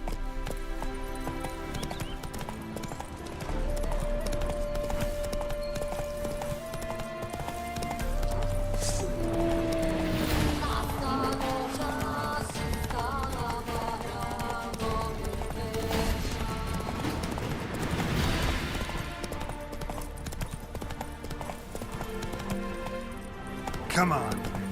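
Hooves clip-clop at a steady gallop as the horse Roach runs in The Witcher 3, with a brief whinny, game music and someone talking over the rhythmic beats throughout.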